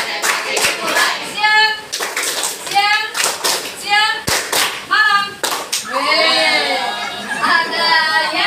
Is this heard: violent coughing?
no